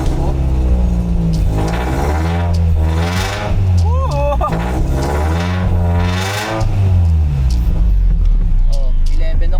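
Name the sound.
Toyota MR2 engine started and revving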